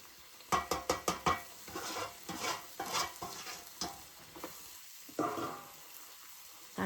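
A paneer and pea mixture hits a hot kadai over a wood-fired stove and gets stirred, with a quick run of sharp scrapes and clinks followed by softer sizzling and spoon strokes, close and fairly quiet.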